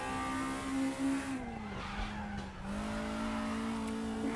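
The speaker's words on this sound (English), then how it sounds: "The brakes locking up." Brakes lock up on a front-wheel-drive race car running slicks in the RaceRoom racing game, giving a loud tyre skid while the engine note drops, then picks up and revs on again, with no talk.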